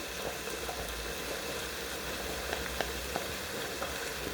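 Onions and garlic cooking gently in a pan for chicken rice, giving a steady, moderate sizzle with a few small pops, close by and without talk.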